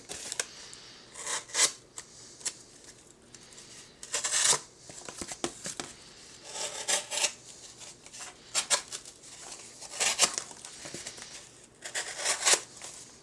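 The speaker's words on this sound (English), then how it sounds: "this cardboard is not the easiest thing to cut, but you can see it does not take an enormous amount of effort for it to slice right through" A Chris Reeve Umnumzaan folding knife slices through cardboard in repeated strokes, giving crisp scraping and crinkling cuts in bursts with short pauses between them, heard up close.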